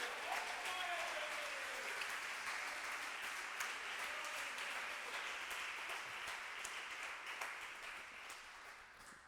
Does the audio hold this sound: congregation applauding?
yes